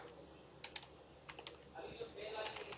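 Computer keyboard typing, with scattered soft key taps building into a denser run of clicks, close but quiet, while a voice faintly speaks underneath.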